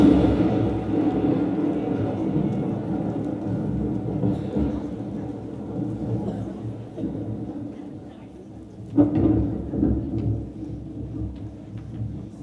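Stage-play rain and thunder effects: a steady wash of rain with rolling thunder rumbles and one sharper crack near the end, while a voice narrates over it.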